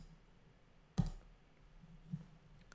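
Two soft computer mouse clicks, about a second apart, sound close by during photo editing in a quiet room.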